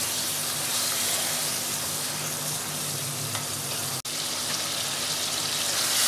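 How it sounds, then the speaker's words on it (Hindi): Dhaba-style mutton masala fries in a pan with a loud, steady sizzle that keeps going without a break, with faint stirring clatter underneath and no voices. "दस मिनट हो गए इसे फ्राई करते हुए"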